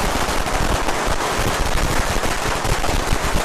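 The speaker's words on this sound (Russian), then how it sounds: "Здесь взрывали фейерверки" Strings of firecrackers exploding at a Chinese New Year street celebration in the Chinese quarter of Manila, a loud dense crackle of rapid overlapping bangs that continues without pause.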